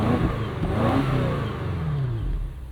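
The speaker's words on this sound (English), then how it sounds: "Let's give it a couple revs." A 2024 BMW X6M Competition V8 in loud exhaust mode revs up and falls back down, a deep close roar that rises and fades over a few seconds.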